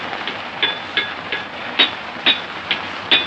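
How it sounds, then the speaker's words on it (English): A blacksmith hammers iron in an old film scene, with about seven evenly spaced metallic clanks of moderate loudness ringing over a steady background hiss and rumble. "How's that hammer? Oh, it's just a blacksmith."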